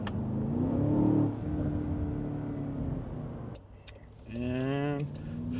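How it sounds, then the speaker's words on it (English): A 2025 Land Rover Defender OCTA engine revs hard while accelerating, a loud rising drone that drops briefly during a shift and then climbs again through fast-rising harmonic sweeps. "This does 0 to 100 in about like 4 seconds or so, which is kind of crazy considering this thing is a beast, a beast. Oh man, this motor rips."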